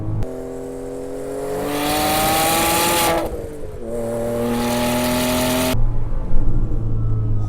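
Turbo Porsche Cayman pulls hard up a damp mountain road, its engine note climbing steadily through a gear, dipping at a shift, then rising again before a louder, rougher burst near the end; no talking.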